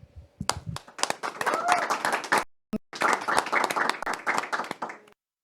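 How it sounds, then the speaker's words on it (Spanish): An audience at a Catholic talk show welcomes guest Rolando Bonilla with lively clapping from a small group, dense and irregular, broken by a brief pause before resuming and stopping abruptly. "vamos a recibirlo con un fuerte aplauso"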